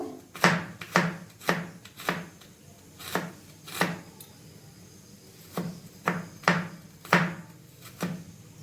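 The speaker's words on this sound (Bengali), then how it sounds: "এবার আমি আরো কিছুটা পরিমাণে আদা কুচি করে নেব" A knife finely chopping ginger on a board makes a run of crisp, evenly spaced thuds, close and clear, in several bursts with a short pause in the middle and no voices.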